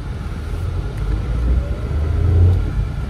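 A crossover car drives slowly around an industrial area on a test drive, its steady low engine rumble and road noise close and continuous, rising slightly mid-way, with no talking.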